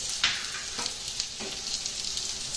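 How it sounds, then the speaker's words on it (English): Lamb chops browning in a hot pan alongside garlic and shallots give a bright, steady sizzle close to the microphone, with a few brief clicks and stirring bumps and no voices. "Now, I'm going to brown this for a minute, and you notice I still got my garlic and my shallots here."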